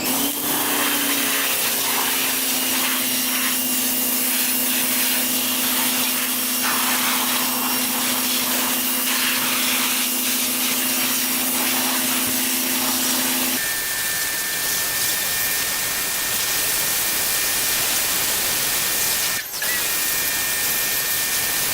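Pressure washer cleaning a 1985 Honda CR250 dirt bike, a constant loud spraying hiss over a steady pump drone that shifts pitch partway through, close up with no talking.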